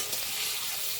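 Potatoes fry in a pan with a dense, continuous close sizzle of hot oil, steady and unbroken, with no talk.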